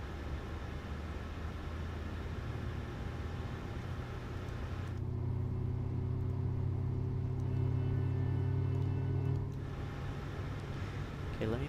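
Airliner engine spooling up after pushback in a flight simulator game, a steady low rumble and hum that swells midway into a louder whining drone with rising tones, then eases back, under faint talk.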